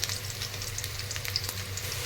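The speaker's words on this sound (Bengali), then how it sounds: "আলুগুলোকেও আমি খুব সুন্দরভাবে ভেজে নেব" Potatoes frying in a pan of oil for a potol chingri dish, a steady soft sizzle with faint crackles running throughout, close and continuous with no talking.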